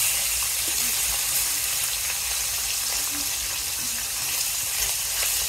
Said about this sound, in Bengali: এই যে আমার তেল গরম হয়ে গেছে, কই মাছ দিয়ে দিই তেলের মধ্যে